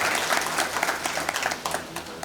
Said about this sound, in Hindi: आप प्लीज़ अपने खुद के लिए एक बार ताली बजाइए